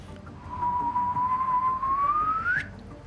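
A single whistled tone glides slowly upward in pitch and grows louder, ending in a quick sharp rise, imitating a chirp.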